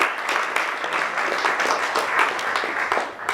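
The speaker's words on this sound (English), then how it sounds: "Ladies and gentlemen, round of applause for Gilda." A live audience applauds a child volunteer named Gilda, sustained close, dense clapping with no talk over it.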